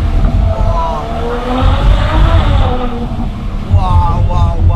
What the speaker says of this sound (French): Conduire deux Ferrari